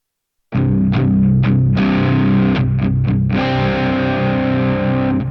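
A crunchy, overdriven electric guitar through a Divitone MF Studio smart guitar plays ringing chords and a few picked notes, loud and sustained with no talking.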